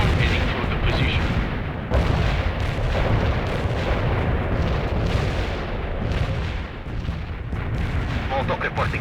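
Mortar and artillery fire from World in Conflict rumbles in repeated heavy booms and bursts over a dense battle din, loud and continuous, with radio-style voices talking over it.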